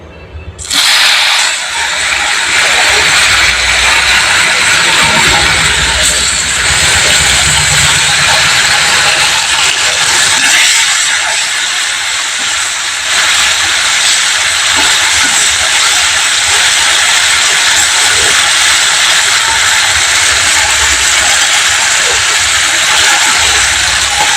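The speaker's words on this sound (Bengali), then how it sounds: "প্রথমে আমুদি মাছটা ভেজে নেব হয়ে গেছে এবার মাছটা ভেজে নেবো" Amudi fish fry in hot oil in a pan, a loud, continuous, close hiss and sizzle that holds steady throughout, with no talking.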